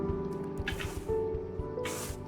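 Water dripping from dripstone in Minecraft, heard as soft repeated drip sounds with a couple of brighter splashy bursts over a steady low ambient hum.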